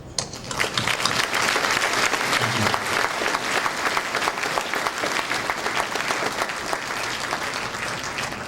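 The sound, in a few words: applause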